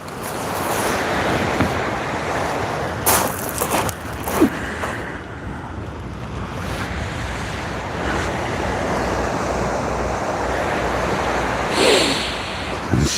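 Steady southwesterly wind over the sea during kayak fishing, a loud continuous rush buffeting the microphone, with surf-like swells and a few sharper gusts, no voices.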